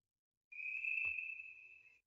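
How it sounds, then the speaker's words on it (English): A single long, steady whistle blast from the starter at a boys' swim meet, loud and sustained for about a second and a half in an indoor pool, with no talk over it. "Gets the whistle."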